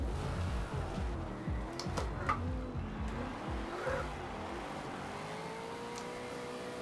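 A stock Dodge with a powerful engine is driven in Forza Horizon 2, its engine revving and sweeping up and down in pitch as it slides through drifts, steady and fairly loud, easing off toward the end.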